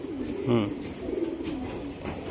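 A racing pigeon coos in a clear, close rolling call with a couple of softer follow-up coos, and faint voices murmur in the background.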